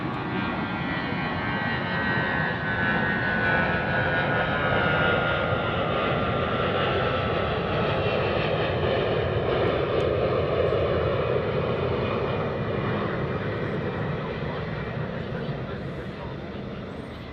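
Aircraft engines at DFW airport roar in a continuous broad rumble that swells and slowly fades as a plane passes, heard from a distance outdoors.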